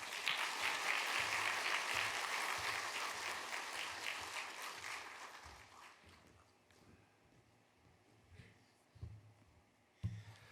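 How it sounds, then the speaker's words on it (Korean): A church congregation applauds to welcome a guest preacher, loud sustained clapping that gradually thins and fades, leaving a few faint scattered sounds and a final soft knock. "우리 한번 크게 박수함으로 환영하겠습니다"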